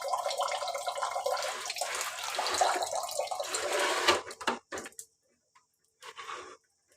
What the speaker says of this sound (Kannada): ನೀರು ವೇಸ್ಟ್ ಆಗ್ತಾ ಇದೆ ಫ್ರೆಂಡ್ಸ್, ಅಲ್ಲಿ ಅದೇ ಸೌಂಡು.